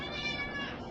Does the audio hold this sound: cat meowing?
yes